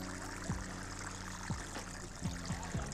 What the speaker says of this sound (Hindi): आज मैं हज़ारे से पानी डाल ले रहा हूँ